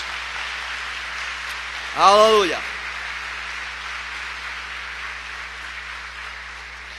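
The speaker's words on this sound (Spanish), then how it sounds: "Denle un aplauso al Señor" A church congregation claps in steady, sustained applause that runs through the whole stretch, with one voice briefly calling out over it partway through.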